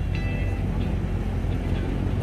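Train 4404 on the Kantang–Bangkok run stands at a platform of Bang Sue Grand Station, giving a steady low rumble of idling engine and rail noise throughout, with a faint high squeal near the start.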